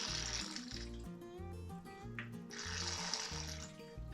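Oil from a hydro-locked estate car engine drains with a gurgling, glugging sound in regular pulses, like liquid pouring out of a narrow opening. The sound is faint and continuous, with no voices over it.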